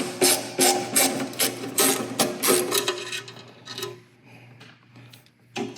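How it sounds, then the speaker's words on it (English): Ratcheting screwdriver backing out the screws on a belt guard during a CB6 conversion kit install, a rapid series of close clicking ratchet bursts, busier at first and then thinning to a few sparse clicks. "You don't need a fancy ratcheting screwdriver, but it does make it go faster."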